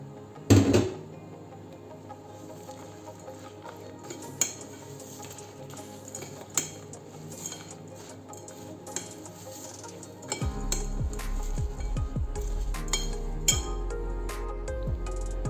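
Honey-coated homemade granola mixture stirred in a bowl, the spoon scraping and clinking against the dish in a steady close rhythm with a sharp knock near the start and louder scraping toward the end.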